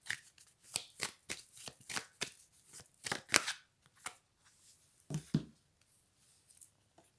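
Playing cards riffled and snapped in a quick run of sharp bursts, then a pause and a couple of softer slaps as cards are laid down, close and alone with no talk.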